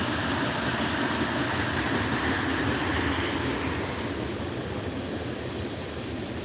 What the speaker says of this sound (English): It's probably a Norfolk line train.